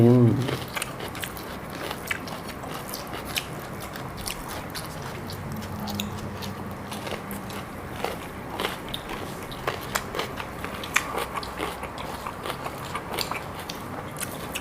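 Close, crisp bites and steady chewing of a fresh raw banana pepper at an outdoor meal, with repeated crunchy clicks over a few seconds and a faint background hum.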